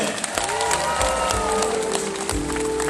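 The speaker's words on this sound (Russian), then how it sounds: "Давайте этому еще раз бурные аплодисменты." Applause and cheering from a concert audience at a Sagaalgan (White Month) celebration, a dense, steady wash of clapping with crowd noise and music tones running underneath throughout.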